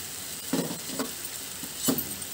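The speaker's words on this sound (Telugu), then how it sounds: "క్యారెట్ నెయ్యిలో బాగా వేగిందండి" Carrots sizzle in hot ghee while being stirred, with soft crackling and a few brief scraping bursts from the spoon. The sound is close and moderate in level, with no voices.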